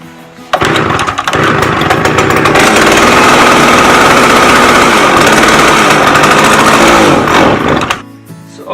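A McCulloch 610 chainsaw engine starts and runs loud and close, a raw rattling two-stroke roar holding steady for about seven seconds after a short lead-in, then cutting off abruptly near the end.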